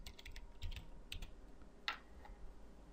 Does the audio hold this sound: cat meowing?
no